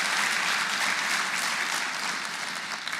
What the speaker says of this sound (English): Let's give them that round of applause